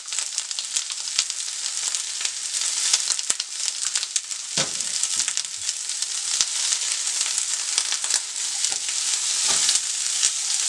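Onions sauté in a pan for Chicago Maxwell Street-style Polish sausage, giving a continuous bright sizzle with scattered crackles and pops, close and alone without talk.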